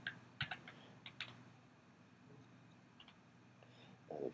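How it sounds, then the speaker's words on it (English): Quiet keyboard typing while entering notation in MuseScore, a few irregular clusters of soft key clicks separated by pauses, close and faint against a low room hum, with a louder burst of keystrokes at the end. "you type, you hold the shift key down"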